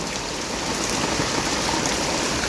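Heavy rain pours down steadily in a home garden among potted plants, a dense, constant hiss of water with no break and no voices.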